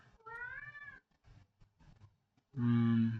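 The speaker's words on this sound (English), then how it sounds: "Did I just hear a cat?" A nearby cat meows twice, first a rising, drawn-out call and then, after a quiet gap with faint shuffling, a louder, fuller meow.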